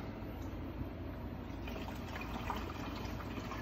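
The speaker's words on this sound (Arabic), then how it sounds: "بعد كده بتلاحظوا المويه بتبدا تنزل من هنا وتتعبى." Water pours steadily into the reservoir of a Breville Oracle Touch coffee machine, a continuous close gushing fill with no break and no voices.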